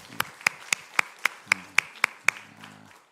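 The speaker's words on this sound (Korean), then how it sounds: "우리 하나님께 영광의 박수 올려드릴까요?" A church congregation claps during a Sunday worship service, with about nine sharp, evenly spaced claps in a steady rhythm and a faint low murmur underneath.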